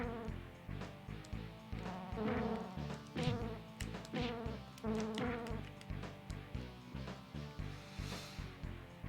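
Buzzing bees in the Super Nintendo game Battletoads in Battle Maniacs, a steady insect drone over busy chiptune game music and effects, with no talking.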